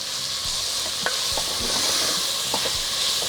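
Beans and chopped vegetables frying in a pan for chicken pulao, a continuous close sizzle with scattered scraping taps of a spoon stirring the mix, no voices.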